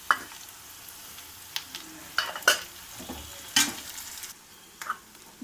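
Curry leaves and turmeric frying in hot oil for a curry, heard as a soft, faint sizzle with scattered sharp clinks and stirring scrapes from a pan.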